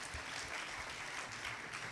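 Audience members at a Bank of Uganda suppliers' conference clap for the panelists, a brief, dense patter of hands heard fairly faintly, with no talk over it.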